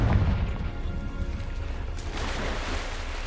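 A Confringo fire-blast spell goes off in the video game Hogwarts Legacy: a loud, deep boom at the start that rolls into a long, rumbling, crackling decay, heard with no talking.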